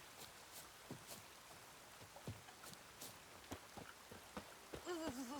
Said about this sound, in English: it's going to be a rainy day, so I guess we're not going to get any sun.